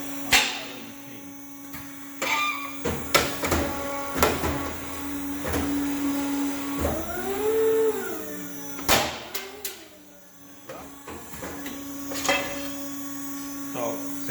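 An Edgemaster M100 edge trimming machine cuts an 8 mm radius into O100 material with a steady droning hum. Sharp clicks and knocks break in throughout, and a rising and falling whine sounds partway through, with no talking.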